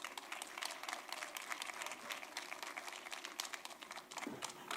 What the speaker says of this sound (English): Let's please give a round of applause for Dr.